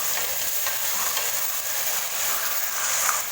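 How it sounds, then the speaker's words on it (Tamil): Ground small-onion paste sautéing in hot oil with cinnamon, clove and cardamom for a mutton gravy, a steady close sizzle with faint stirring throughout, no voices. "பட்டை, கிராம்பு, ஏலக்காய் எண்ணெயில் பொரிஞ்சதுமே நம்ம சின்ன வெங்காயம் அரைச்சி வச்சுக்கோங்க, அதை சேர்த்துக்கலாம்"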